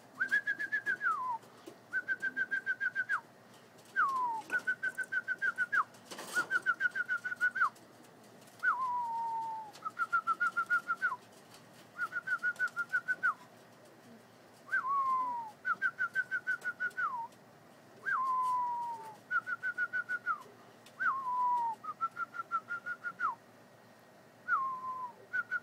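Pigeons at a loft call in repeated trilling, whistle-like bursts with falling ends, about a dozen phrases spaced evenly over time, fairly close and clear with no talk.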